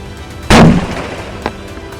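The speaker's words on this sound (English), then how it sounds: "More shots fired." A single loud gunshot rings out during a police confrontation, followed by a fainter second report about a second later.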